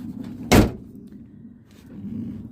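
A Renault Kangoo van door shuts with a single sharp, loud slam, followed by a low steady hum and faint background rumble.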